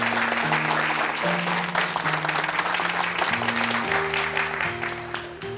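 A group applauding in an indoor room, dense continuous clapping at a steady level for several seconds while a low musical tone plays underneath.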